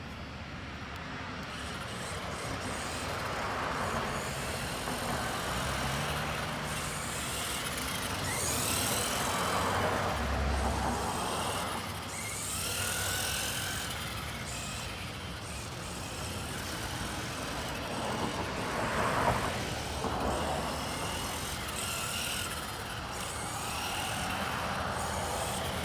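A 1/18 scale Axial RC trophy truck on its first run, its small electric motor whining and surging as it drives near and away in broad sweeping passes over steady background noise, no talking.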